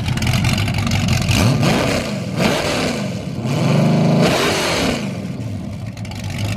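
A loud, raw engine of a 1988 IROC race car revs hard several times through straight pipes, rising and falling in pitch with a harsh, unmuffled roar close to the microphone.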